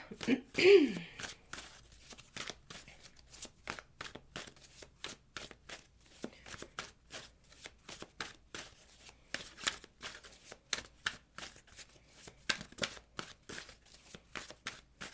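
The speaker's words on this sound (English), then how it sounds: "So let me just get a couple good shuffles in." Tarot cards being shuffled repeatedly, a quick run of crisp riffling snaps and flutters, close by, with a brief voice near the start.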